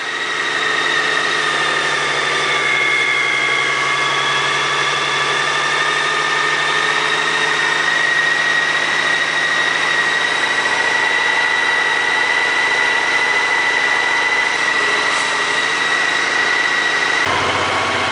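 Honda GL1800 Goldwing motorcycle engine idling on fresh fuel, a steady, even hum with a faint whine running loud and unbroken throughout, no one speaking.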